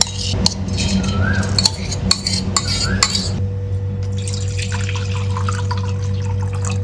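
Water is poured into a metal pot of leftover cooked rice with clinks and splashy stirring, against a steady background hum, then a quieter sloshing trickle follows.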